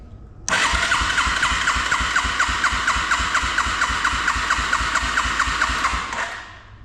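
A 1987 Yamaha TrailWay 200 engine cranks over with the throttle wide open during a compression test. The starter gives a loud, even train of rapid pulses for about six seconds, then winds down.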